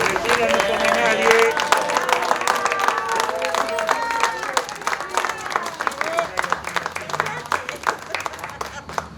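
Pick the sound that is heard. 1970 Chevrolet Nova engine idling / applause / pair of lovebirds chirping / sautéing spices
applause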